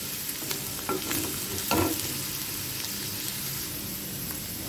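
Vegetables for veg fried rice sizzling and frying in a pan, a steady close hiss broken by a few louder stirring scrapes, with no voices.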